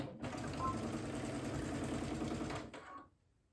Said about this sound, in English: I will take a few stitches, I will back stitch, and then go forward again